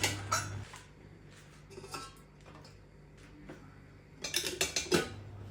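Metal clinks and clatter as a pressure cooker lid is opened after cooling, in a home kitchen while making raw papaya green chilli sabji, with sparse light knocks and a quick burst of rattling metallic taps near the end.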